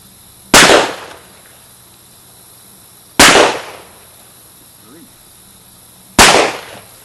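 Rossi six-shooter revolver fired at outdoor targets: three loud, sharp gunshots spaced about three seconds apart, each with a short decaying echo, over quiet background.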